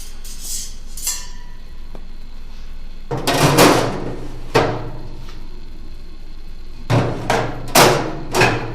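Metal grates being set into a smoker fitted with a custom RT 590 shelf, giving a series of sharp clanks, scrapes and thuds in irregular bursts, close and fairly loud.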